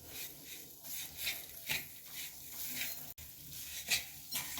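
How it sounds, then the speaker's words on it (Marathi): Jaggery and sugar melting into syrup for sesame chikki, stirred steadily in a pan over low heat: soft repeated scraping strokes with a faint sizzle underneath, close and fairly quiet, no voices. "आपण 2 मिनिट सतत हलवत राहायचं आहे."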